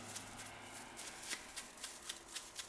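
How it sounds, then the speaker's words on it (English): A dry brush works gold leaf sheets down onto a glued surface, making faint, close, rustling swishes in a steady rhythm of short strokes over a quiet room background. "So you're just going to lay it on, and you use a dry brush,"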